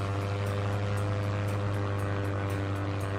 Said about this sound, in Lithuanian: Lėktuvą.